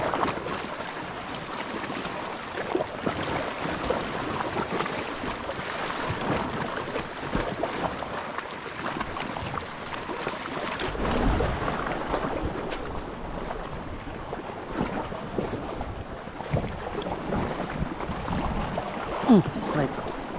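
River current flows steadily past a fishing spot, a continuous broadband wash with wind buffeting the microphone and some faint voices.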